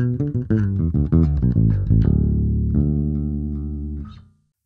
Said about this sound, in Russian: Ну и оба датчика вместе.